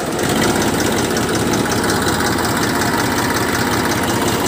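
A 2002 Massey Ferguson 1035 DI tractor engine runs at a steady idle, a loud, close, continuous diesel rumble with a fine knocking texture that holds evenly throughout, with no voices.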